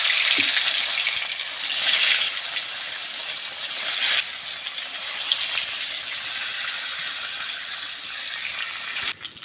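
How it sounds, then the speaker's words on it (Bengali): Fish rubbed with salt and turmeric fries in hot oil, a loud, close, steady sizzle and crackle that runs the whole time, swelling briefly as pieces drop in, with no voices. "তেলটা গরম হয়ে গেছে, এবার মাছগুলো একে একে দিয়ে দিব"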